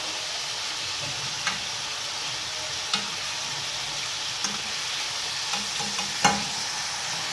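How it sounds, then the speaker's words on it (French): Minced beef steaks fry steadily in a pan for homemade tacos, a constant close sizzle with a few soft clicks and taps of a utensil scattered through it, no voices. "je vais laisser cuire mes steaks"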